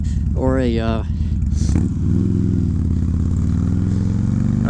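A motorcycle engine rumbles steadily up close, with a brief rising whine near the start and a loud, continuous exhaust drone throughout.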